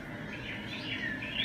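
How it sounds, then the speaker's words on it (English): Several parrots chirping and calling in the background aboard a Disney cruise ship, short bright calls rising over a low murmur of ambient noise. "Can you hear all the parrots?"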